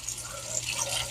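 Cold water is poured from a tap into a pot of cooked noodles, a short, steady splashing trickle lasting just over a second.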